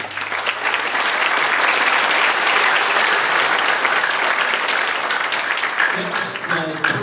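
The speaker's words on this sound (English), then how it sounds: "They deserve a huge round of applause." A school audience at a middle school fall orchestra and choir concert breaks into dense, sustained applause that stays loud and steady for several seconds before thinning out at the end.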